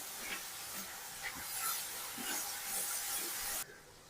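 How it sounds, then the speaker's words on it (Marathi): Ground masala roasts in hot oil for gawar bhaji, giving a steady, close hiss with soft crackles. The sound cuts out abruptly near the end. "मसाला छान तेलामध्ये भाजून घ्यायचं आहे"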